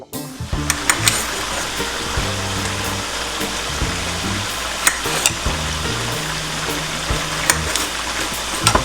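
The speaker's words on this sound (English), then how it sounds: "At this point I need to stir it properly." Lamb curry frying in cooking oil in a pot, a steady sizzle with scattered clicks and scrapes as a utensil stirs it, close and fairly loud.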